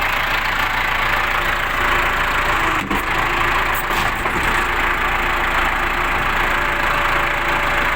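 A Case 695 tractor engine idles in a steady, even mechanical drone that runs unbroken through the clip, with one brief knock partway through.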